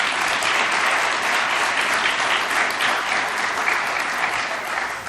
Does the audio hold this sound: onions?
no